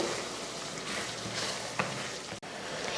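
Masala being stirred and fried in oil for a chicken curry, a soft continuous sizzle with faint scraping of the spoon, fairly quiet and without speech.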